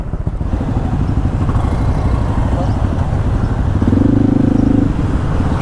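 A small Honda motorcycle in Saigon traffic stutters and bogs as its engine nearly stalls while pulling away, a low uneven putter with a brief steady burst of revs near the end, close up amid surrounding street noise.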